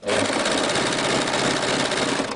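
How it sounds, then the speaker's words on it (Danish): An overlock sewing machine with its cutting knife runs a kimono seam in one steady, loud, continuous whir that lasts the whole stretch, close up and without pauses. "når jeg nu syr tilbage, så sørger jeg lige for, at min kniv ikke skærer i det, vi har syet allerede"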